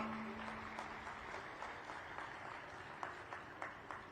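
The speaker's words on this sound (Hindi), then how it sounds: "जोगी समाज और ये 36 बिरादरी हार्दिक अभिनंदन स्वागत करता है तालियों के साथ" Crowd applause at a Jogi community celebration in Sonipat, Haryana, welcoming a guest: a steady, fairly distant wash of clapping with a few sharper claps standing out near the end.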